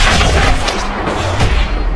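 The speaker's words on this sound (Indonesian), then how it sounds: "segera melepaskan tembakan jitunya" Heavy, continuous gunfire and booming blasts from an action war film roar together, loud and dense, with a few sharper sniper cracks standing out.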